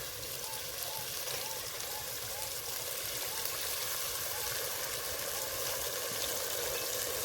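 Spice-rinse water, used to wash out ground cumin and dried-chilli paste, poured into frying spices in a pan while cooking jackfruit chicken, giving a steady, continuous watery hiss and trickle that persists throughout at moderate level.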